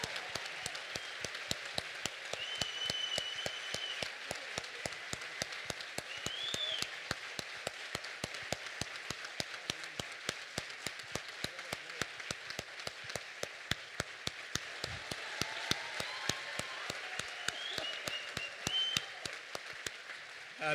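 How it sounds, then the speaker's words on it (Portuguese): A church congregation applauds the apostle with steady, dense clapping that carries evenly through the whole stretch, close and full, with no talk over it. "vamos uma salva de palmas"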